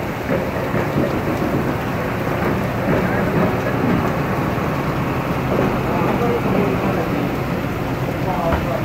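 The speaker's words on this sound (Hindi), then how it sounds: "बहुत तेज बारिश शुरू हो गई।" Heavy rain pours down steadily outdoors, a loud continuous hiss with dense drumming on surfaces, with no break across the whole stretch.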